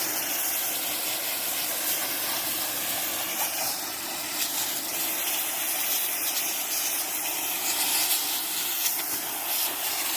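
Steady hissing spray hosing down a Yamaha MT-10 motorcycle, continuous and close throughout with no talking.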